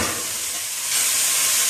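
Food sautéing in a pot of herbs gives a steady, loud sizzle and hiss up close, growing a bit brighter partway through, with no talking.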